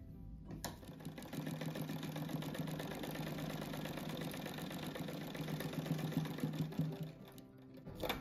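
A sewing machine stitches fabric strips together for a handmade strip rug, running in one steady, continuous mechanical whir close up for nearly the whole span, with a brief pause at the start.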